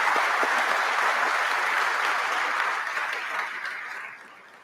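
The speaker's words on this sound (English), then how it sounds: "Graduates, please give our community a round of applause." An audience at a law school professional recognition ceremony breaks into sustained applause, a smooth wash of many hands that holds steady and then gradually fades toward the end.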